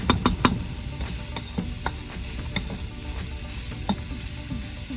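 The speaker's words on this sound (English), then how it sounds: "I just want to saute all this together" Chicken and broccoli sauté in plenty of oil in a home pan, a steady close sizzle broken by a few sharp scrapes and clanks of a utensil stirring.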